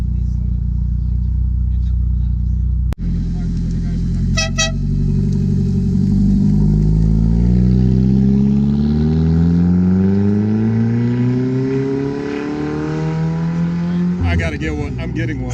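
A sports car engine revs hard at a cars and coffee meet, a loud, close, deep roar climbing and falling in pitch over several seconds, with brief sharp clicks and a faint voice mixed in.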